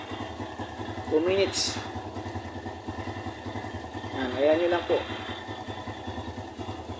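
A motorcycle engine idles steadily at a low, even rumble through a warm-up run, with someone talking over it and brief higher mechanical tones rising twice.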